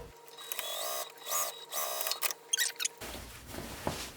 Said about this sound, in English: I'm going to sew this lining closed with the 1/8 of an inch seam allowance away from that folded edge